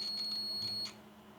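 A steady high electronic beep from a digital multimeter on continuity mode, held for just under a second while testing a wire still on the roll, then cutting off to quiet room tone.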